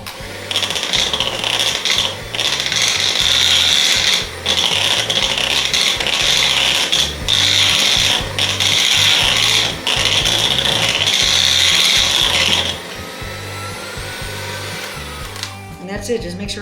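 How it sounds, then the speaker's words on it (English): Electric hand mixer whirring steadily through banana bread batter for about twelve seconds with small dips in speed, then cutting off to a quieter kitchen with faint clatter. "I'm going to use the mixer a little bit."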